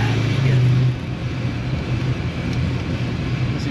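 A Foxbody car's engine rumbles steadily on its first drive in two years, a loud low drone that swells briefly at the start and then holds even, with faint voices underneath.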